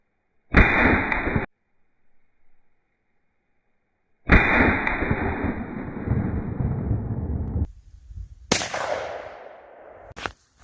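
Pistol shots at an outdoor target range, two sharp loud reports separated by a few seconds of quiet, each followed by a long echoing decay, then a couple of brief bright cracks near the end.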